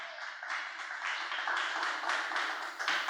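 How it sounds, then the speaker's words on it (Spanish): A church congregation claps in a steady rhythmic beat during a worship service, repeated claps merging into a sustained, moderately loud sound with no talking. "Dale un aplauso al Señor, aleluya."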